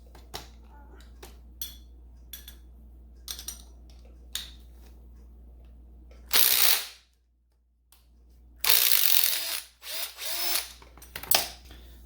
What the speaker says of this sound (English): we need to take this foot peg off the control